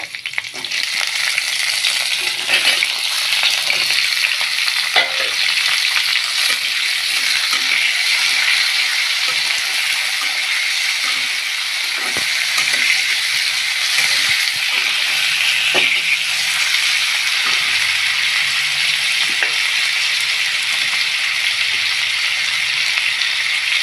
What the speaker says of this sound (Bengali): এর মধ্যে আমি আলুগুলো দিয়ে সুন্দর করে ভেজে নেব